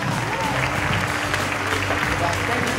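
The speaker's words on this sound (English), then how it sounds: "now we give you a big round of applause" Audience applause at a Jubilee event, a continuous round of clapping from a crowd with voices mixed underneath.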